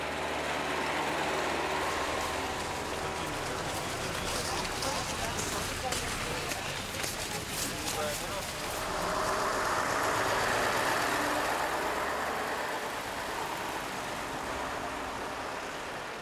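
Snowplow trucks working snowy, salted mountain roads in the Vercors, giving a steady engine rumble and broad scraping roar that swells and fades as they pass, heard under narration.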